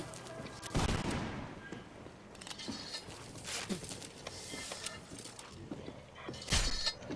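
Black-powder gunfire in the Roblox game Guts & Blackpowder: a few booming shots ring out amid scattered pops and clatter, with a loud burst near the start and another near the end.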